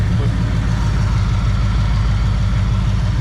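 1966 Ford Fairlane with a 390 FE V8 idling, a loud close rumbling idle with a steady lumpy low pulse, running alone without talk.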